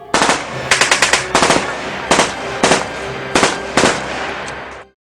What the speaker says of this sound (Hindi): बेअंत सिंह ने अपनी रिवॉल्वर से इंदिरा गांधी पर फायरिंग की।